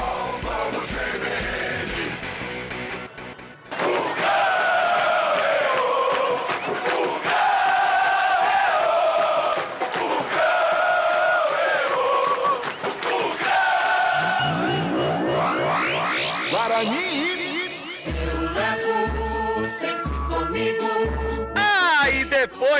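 Guarani supporters chanting together in the stadium during a Série B match against Goiás, a loud sustained crowd chant with musical tones, broken by a sweeping swoosh and then a rhythmic musical section near the end.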